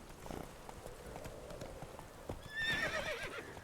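Roach the horse in the video game Witcher 3, with hooves clip-clopping at a trot and a clear whinny rising near the end, set against low game ambience.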